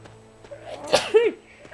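A character in the video game Lineage 2: Revolution sneezes once, a sharp close burst with a short breathy intake before it, set against quiet game background tones.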